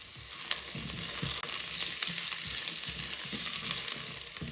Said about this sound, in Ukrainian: Відсовую цибульку на одну сторону і на другу додаю моркву. Смажу так хвилин 5, періодично помішуючи.